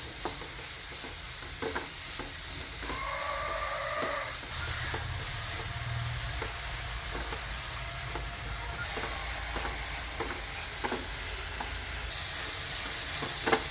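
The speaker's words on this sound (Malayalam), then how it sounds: "ഇഞ്ചി വെളുത്തുള്ളി പേസ്റ്റും ലേശം ഉപ്പും കൂടെ ഇട്ടിട്ട് നല്ലപോലെ വഴറ്റിയെടുക്കാം." Sliced onion sautés in a pan with ginger-garlic paste and salt, a steady close sizzle broken by repeated scraping knocks of a stirring spoon, with no voices.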